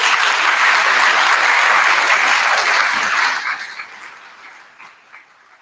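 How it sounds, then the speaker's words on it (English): Audience applause at a college opening convocation and Constitution Day observance, dense sustained clapping for about three seconds before thinning out and fading to scattered claps. "Let's give her another round of applause."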